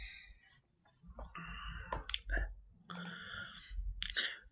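A computer mouse gives a few sharp, quick clicks while a voice speaks around them.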